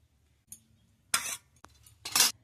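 Egg curry is served out of a pan into a dish with a few short metallic clinks and scraping bursts of a spoon against the vessel, close and otherwise quiet.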